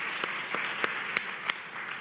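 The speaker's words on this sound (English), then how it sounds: "clap for that" Scattered applause from a press conference audience on affordable housing in Atlanta, a soft steady patter broken by about six sharper, louder claps at roughly even intervals, with no talk over it.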